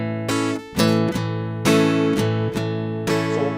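Close, clear guitar strumming pattern played on chords, repeating groups of strokes where the third stroke is muted into a short percussive chop; solo instrument with no voices.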